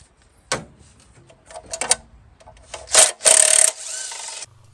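Bolts being loosened and a timing belt cover being pulled off a Ford 2.3 engine: close, irregular scraping, rubbing and clattering of tools and plastic, with a louder sustained rasp near the end.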